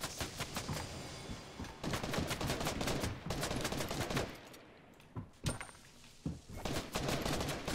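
Bursts of video game gunfire in Fortnite as an opponent shoots through a wall, loud rapid volleys in several clusters separated by short lulls, with no talking.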